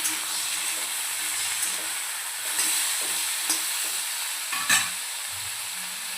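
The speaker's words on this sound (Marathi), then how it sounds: "तेल आणि मिठामध्ये छान आपण याला परतून घेऊया." Drumsticks sautéed in oil and salt in a kadhai give a steady, even sizzle with light scraping stirs and a few sharper clacks of the spoon against the pan.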